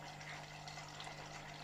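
A Fluval U2 aquarium filter lifted partly above the waterline splashes and gurgles, a faint, continuous watery trickle with a steady low motor hum beneath it.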